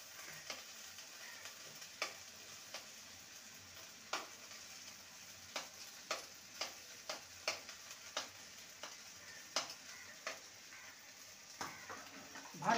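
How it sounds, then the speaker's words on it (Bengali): Okra fries in a pan on a medium gas flame for a spicy vendi dish, a quiet steady sizzle broken by regular scraping knocks as the pieces are stirred. "ভালো করে নেড়ে নেব। এবারে ভেজে রাখা ভেন্ডিগুলো দিয়ে দেবো।"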